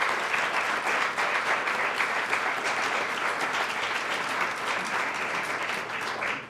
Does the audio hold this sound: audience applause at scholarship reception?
yes